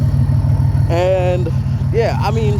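An 80s Nissan Z31 Turbo idles loudly with a deep, steady, pulsing low rumble throughout, while someone talks over it close by.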